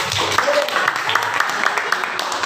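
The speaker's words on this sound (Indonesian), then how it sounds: "Tepuk tangan untuk semuanya" Classroom of students clapping together during an Indonesian science teaching-practice lesson, a steady broadband patter of many hands held at an even level for the whole stretch, with faint voices underneath.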